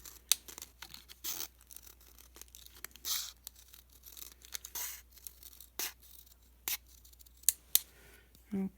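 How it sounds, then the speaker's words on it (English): Scissors snip repeatedly around a plastic bottle in irregular, crisp close-up cuts with crinkling plastic between them, quiet overall, with no talking. "It's much easier to use your scissors."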